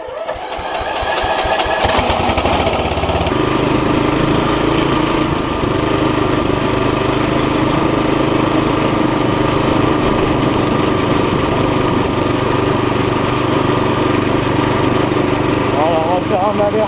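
French racing tractor engine idling as it warms up before a race, a steady loud rumbling drone that fills the whole stretch after a brief rougher start, with a voice speaking over it.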